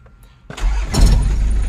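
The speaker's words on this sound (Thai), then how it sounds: "เดี๋ยวลองสตาร์ทฟังเสียงสักหน่อยนะครับ" A Mitsubishi L200 Cyclone pickup cranks briefly and its engine catches, then settles into a steady rumbling idle close by, with no talking.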